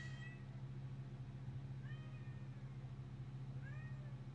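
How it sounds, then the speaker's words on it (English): A cat meows several times, short rising calls at the start, middle and end, heard over a low steady hum. "Yes, cat."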